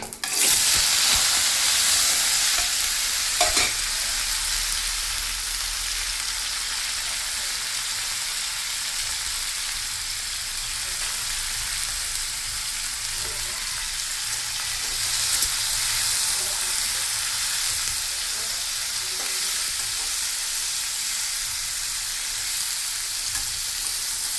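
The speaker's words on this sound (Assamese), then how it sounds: "তেল গৰম আছে, এতিয়া জিৰা চম্ভাৰ দিম। এতিয়া দিম ডাঠাখিনি।" Greens (datha) go into hot oil with cumin, setting off a loud, continuous frying sizzle that stays steady throughout, with an occasional clink of a utensil.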